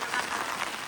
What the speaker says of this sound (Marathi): तर पाऊस थोडासा कमी झालेला आहे